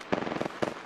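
A frag grenade blast in the Apex Legends battle royale game, loud crackling bursts that erupt sharply, fade, then burst again twice within a second, with no talk over them.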